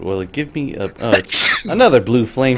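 A single sharp sneeze bursts out mid-sentence while a person talks during an Eternal Sonata stream, loud and close, framed by speech before and after.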